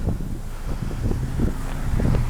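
Steady wind buffeting a microphone outdoors, a low rumbling roar with gusty fluctuations throughout.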